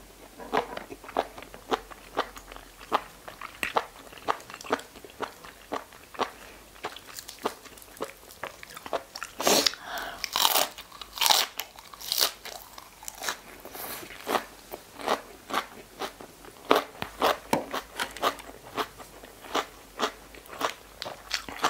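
Dry Thai khanom jeen rice noodle salad with fish roe is chewed loudly close to the microphone, a steady run of crunchy bites and crackling mouth sounds lasting about twenty seconds with no talking.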